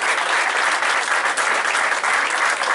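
A crowd at a Bocuse d'Or 2015 special press event applauds to welcome academy members: loud, dense, unbroken clapping filling the room evenly from start to finish.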